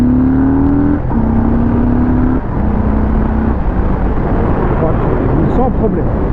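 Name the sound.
Harley-Davidson Street Bob 2022 motorcycle accelerating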